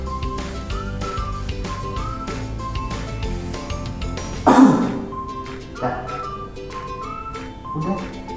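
A person coughs once into a face mask, a muffled burst midway through, over a light melodic background tune, followed by a few softer throat sounds.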